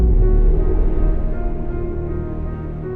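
A full orchestral-style music mix blending real and synthesized strings, playing as one dense, sustained passage at steady loudness throughout, with no talking.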